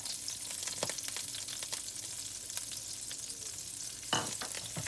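Chopped garlic sizzles steadily in oil and butter in a pan while prawns are being made, with a constant crackling hiss, a few stirring scrapes, and a louder burst near the end.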